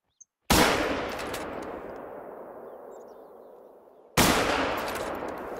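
Two loud rifle shots ring out while hunting bison (wisent) in theHunter: Call of the Wild, each a sharp close blast followed by a long echoing decay across open terrain.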